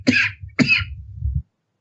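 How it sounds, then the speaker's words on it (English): Two sharp coughs close together, each a harsh burst, followed by a brief low rumbling throat sound before silence. "Keeping your coughing in"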